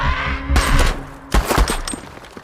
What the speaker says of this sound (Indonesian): rekan James banyak yang terkena tembakan